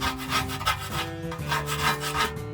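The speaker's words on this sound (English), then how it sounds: "All I'm doing here is scraping around all the loose dirt and rust." Loose dirt and rust being scraped off a Ferguson tractor's front wheel rim, a steady close rasping rub with short uneven strokes and no talk.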